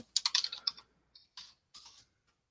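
Quick clicking keystrokes on a computer keyboard, a fast run of taps followed by a pause and a few isolated presses, close and clear with no talking.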